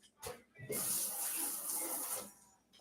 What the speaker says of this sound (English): And then rinse this off.